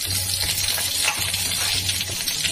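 Bay leaves, dried red chilli and cumin frying in oil for an okra and mung dal curry, a close, continuous sizzle with a busy crackle and faint stirring clinks, no voices.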